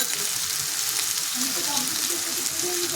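Cumin seeds fry in hot oil, producing a loud, continuous close sizzle and crackle throughout, with a voice faintly underneath.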